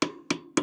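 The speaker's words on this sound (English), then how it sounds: "You just tap off with a hammer." Three quick, evenly spaced hammer taps knock a small metal cap off a fitting on potato farm equipment, each a sharp close metallic tick with a short ring.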